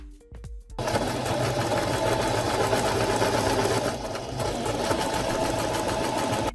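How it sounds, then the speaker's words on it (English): Close and loud, a sewing machine joins fabric stripes cut from old jeans and scarves in a continuous steady whir after a brief start, running alone without voices. "Now I sew the stripes together."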